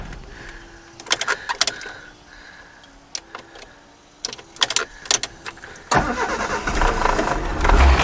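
Keys jingle and clunk nearby, then the engine of a 1978 British Leyland Clubman Estate cranks and catches, settling into a loud, rough running rumble.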